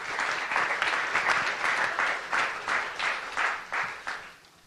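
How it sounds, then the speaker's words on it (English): Luncheon audience breaks into applause, a sustained wash of many hands clapping at moderate distance, swelling in rhythmic waves before trailing off. "Let's give them a round of applause."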